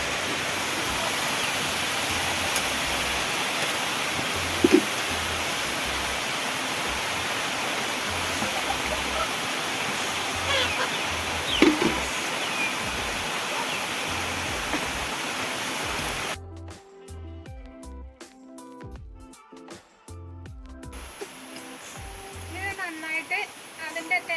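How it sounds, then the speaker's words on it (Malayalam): Heavy rain pours outside in a steady, dense hiss for most of the stretch, with a few brief knocks, then cuts to quieter sound near the end. "പുറത്ത് നല്ല മഴയാണ്"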